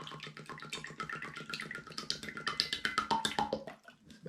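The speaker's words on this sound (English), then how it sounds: "We'll add 2 cups or 500 mils of vegetable oil" Vegetable oil, about two cups, pours into a jug with quiet, close glugging and rippling liquid pulses that build toward the end.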